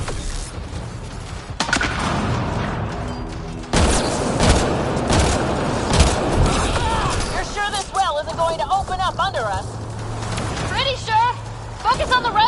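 Turret gunfire in the sci-fi shooter Mass Effect: dense sustained bursts and heavy booms roll through the first half, then the battle noise thins as voices talk over lingering shots.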